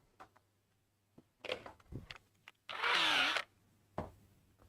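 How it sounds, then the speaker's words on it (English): A power drill drilling holes in reclaimed wood for a rustic door whirs in one loud burst lasting under a second, surrounded by scattered clicks and handling knocks. "Got to drill the holes first."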